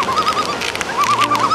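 Parrot riding on a backpack along a beach, giving short repeated chirping whistles in two bursts over steady outdoor background noise.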